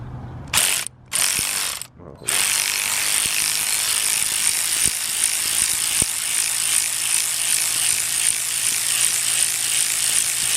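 A ratchet wrench loosens a stripped or bent bolt with a loud, steady, close-up clicking that runs continuously after a few brief starts.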